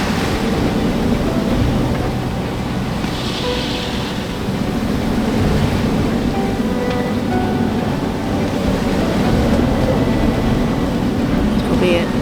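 Gale-force wind roaring over ocean waves while sailing through a storm, a steady loud rush of wind and surf with water sloshing against the hull, continuous throughout with no clear break.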